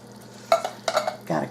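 A spoon stirs breakfast sausage, fire-roasted diced tomatoes and vegetables in a soup pot, making three short scraping, sloshing strokes over a quiet low hum.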